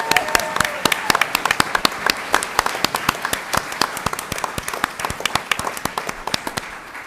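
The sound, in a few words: audience applause at school board meeting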